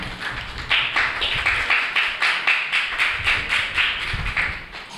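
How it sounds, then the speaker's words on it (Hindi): A live audience claps warmly to welcome a poet to a poetry gathering, a steady, fairly loud wash of many hands with rhythmic pulses running the full length, with no talking. "भरपूर तालियों में इस्तकबाल कीजिए मोहतरमा इरम सरताज साहिबा।"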